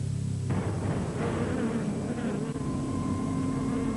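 Bees buzz steadily up close, a dense droning hum with fluctuating pitch that carries on throughout, no voices.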